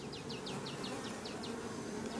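Honeybees hum around hive number 4 on a dry summer meadow beside woods, a steady insect drone with a row of brief, evenly spaced high chirps running through it.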